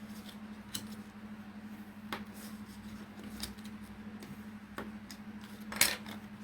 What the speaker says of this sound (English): now that they're nice and folded, we're going to burnish it down